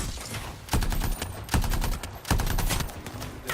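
Turret gunfire rattles in the video game Anthem as dense bursts of rapid automatic shots, with three sharp louder blasts spaced about a second apart over a constant loud barrage.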